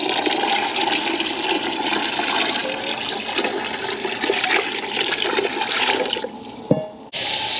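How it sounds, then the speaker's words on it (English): Hot water pours and gushes steadily into a home canning pot for several seconds, then the flow stops abruptly, followed by a short clatter near the end. "I'm going to get some hot water and add water in my canner with hot water"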